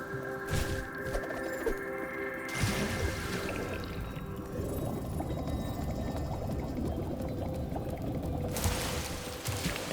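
Steady rushing waterfall from the Spyro Reignited Trilogy video game, a continuous broadband wash with a few brighter splashy swells, loud and constant with no talking.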